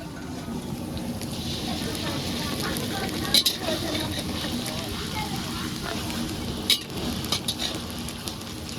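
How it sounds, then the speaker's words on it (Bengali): Onions frying in a pan, giving a steady broadband sizzle that runs throughout at close range, with a couple of brief sharper clinks or pops. "পেঁয়াজটা লাল লাল করে ভেজে নিচ্ছি"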